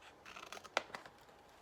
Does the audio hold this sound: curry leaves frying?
no